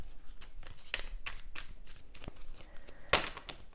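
Tarot cards shuffled by hand up close, a run of quick riffling and sliding bursts with one louder snap near the end.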